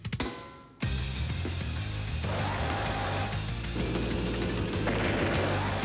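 A tank attack in the game Advance Wars: Days of Ruin, with loud dense booming blasts and rumbling battle effects that run continuously for several seconds with no voices.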